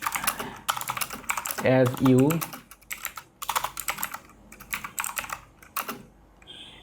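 Bursts of typing on a computer keyboard, quick clattering keystrokes in clusters with short pauses, while someone speaks briefly over them.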